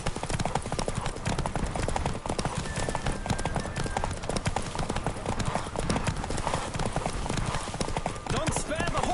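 Horse hooves pound in a fast, dense gallop during a race in The Witcher game, steady and close throughout, with voices talking over the hoofbeats.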